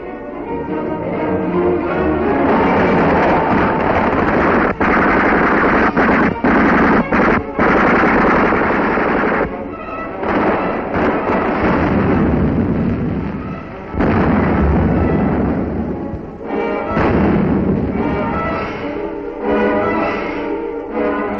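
Enemy gunfire and artillery in a 1943 wartime newsreel: dense, continuous machine-gun bursts and booming blasts crowd together into a loud, harsh barrage with no letup, recorded with a narrow, old-film quality.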